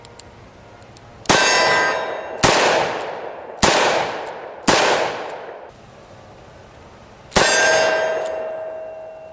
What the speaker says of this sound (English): I was shooting at a steel plate